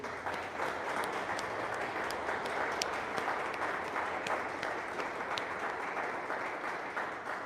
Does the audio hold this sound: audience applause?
yes